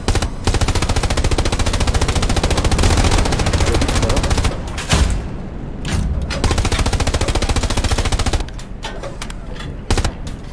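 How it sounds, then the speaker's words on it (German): Rapid machine-gun fire in the WWII shooter Hell Let Loose, loud dense bursts rattling almost continuously for several seconds, with brief pauses and renewed volleys near the end. "ich versuche schon relativ konzentriert zu schießen"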